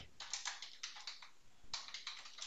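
Computer keyboard typing up close, two quick bursts of rapid key clicks separated by a brief pause, quiet and crisp with no talking.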